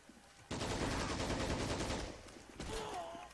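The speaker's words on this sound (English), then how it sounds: "Machine gun them fuckers." Sustained machine gun fire in the war video game Men of War Assault Squad 2, a loud dense rattling burst starting abruptly and running for about two seconds, then resuming briefly.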